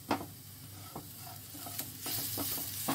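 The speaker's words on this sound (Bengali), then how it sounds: "চাপাটা খুলছি, পেঁয়াজটা বেশ ভাজা হয়ে গেছে।" Onions frying in an uncovered pan for a capsicum paneer gravy give a soft, continuous sizzle, with a few clicks and utensil knocks and a brighter burst of frying near the end, fairly quiet and close, with no voices.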